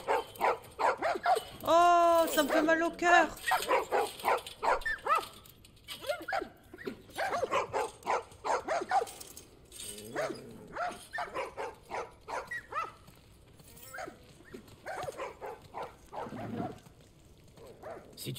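A dog in The Last of Us Part 1 remake yelps and barks in an excited run of sharp cries and whimpers, loud and close early on, while a person speaks briefly in between.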